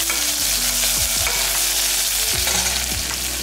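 Onions are sautéed with asafoetida and curry leaves in a pan, giving a steady loud sizzle with a few scraping stirs of a spoon across the metal and no talking.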